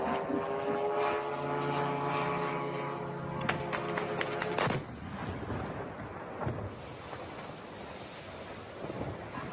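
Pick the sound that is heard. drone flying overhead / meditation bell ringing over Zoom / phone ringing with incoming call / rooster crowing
drone flying overhead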